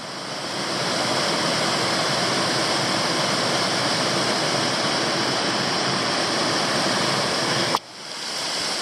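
Bunyan Falls, a waterfall on the West Canungra Creek Circuit in Queensland, roars in a loud, unbroken rush of falling water that cuts off abruptly near the end.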